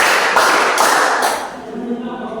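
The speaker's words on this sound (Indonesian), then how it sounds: "tepuk 1 kali, tepuk 2 kali, tepuk 3 kali" Hands clap three times on a teacher's instruction, three sharp, evenly spaced slaps close to the microphone, followed by a voice speaking.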